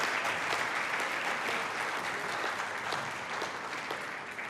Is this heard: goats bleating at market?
no